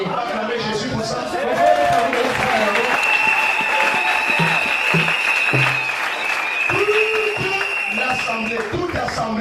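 A church congregation applauding Jesus, sustained dense clapping from a crowd that continues steadily while a voice speaks over it.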